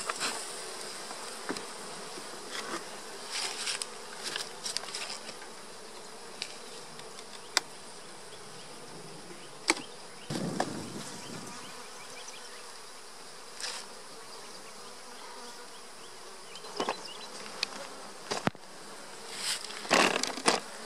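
Honeybees buzz around an opened beehive, a steady hum of many insects with individual bees whizzing close past in short, louder passes, with no talking.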